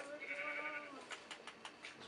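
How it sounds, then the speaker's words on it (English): A sheep in Minecraft gives a bleat, a wavering nasal call near the start, followed by a few quieter clicks and soft taps, close by and fairly faint. "That sheep is gonna forever be in here."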